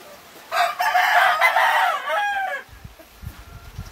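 A yellow-legged hatch gamefowl rooster crows once, loud and close, a drawn-out call lasting about two seconds, followed by low clucks.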